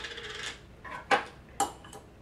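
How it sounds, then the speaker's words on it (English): A jar of fermented mustard opens in a kitchen, two sharp close clinks of lid and glass standing out after a softer rattle, with a faint tap trailing at the end. "we're gonna go ahead and open that mustard here"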